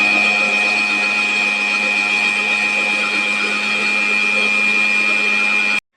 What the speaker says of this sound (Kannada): ಇದನ್ನು ಇವಾಗ ನಾನು ಮಿಕ್ಸರ್ ಮಾಡ್ತಾಯಿದ್ದೀನಿ